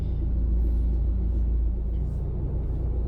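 A car eases forward from a traffic light as the brake is released and it creeps along slowly. A steady low engine and road rumble runs throughout, close and fairly loud.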